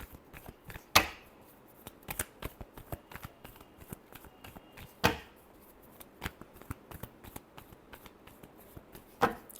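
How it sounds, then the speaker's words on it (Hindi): Tarot cards shuffled by hand during a reading: a steady patter of soft riffles and flicks, with a few sharper slaps of the deck at intervals, close and fairly quiet with no talking. "Last shuffle."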